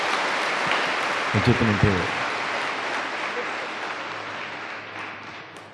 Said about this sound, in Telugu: మీరందరూ బాగుంటే గట్టిగా చప్పట్లు కొట్టండి.